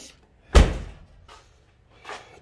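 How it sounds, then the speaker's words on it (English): Door of an SS Monte Carlo shutting with one solid, close thunk, followed by two faint softer knocks. "Doors closed good."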